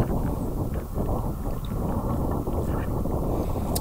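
Cold wind roars across the microphone during a long-distance brevet bike ride in cold, wet weather: a loud, steady, low rumbling buffet with no pauses.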